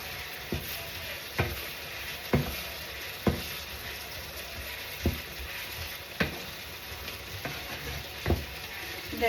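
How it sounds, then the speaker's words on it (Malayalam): A stir-fry seasoned with pepper powder sizzles steadily in a pan, with sharp scraping clicks of a spatula recurring about every second as it is stirred, close and alone without talk. "പെപ്പർ പൗഡർ അത്യാവശ്യത്തിന് ഇട്ട് കൊടുക്കുക. ജസ്റ്റ് ഇളക്കുക."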